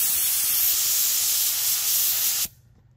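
A paint spray gun hisses steadily as it sprays base coat onto an engine in an outdoor spray booth, a close, continuous broadband hiss that cuts off abruptly near the end, leaving quiet.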